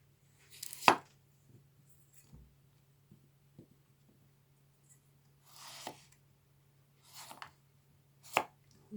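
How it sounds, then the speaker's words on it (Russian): A German chef's knife slices carrots lengthwise on a cutting board, producing several separate, irregular crisp cuts and taps with quiet pauses between them, close and soft. "Сейчас мы немножко еще порежем морковку вдоль"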